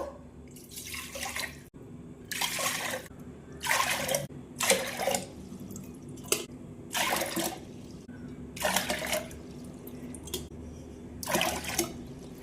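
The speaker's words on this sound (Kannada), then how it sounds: "ಇಲ್ಲಿ ನಾನು ಒಂದು ಕುಕ್ಕರ್ ತೊಗೊಂಡೇನು. ಇದ್ರಾಗ ನೀರು ಹಾಕ್ತೇನು." Water is poured into a cooker in about eight separate splashing pours, each a short gush of a second or so separated by brief pauses, close and moderately loud with no talk.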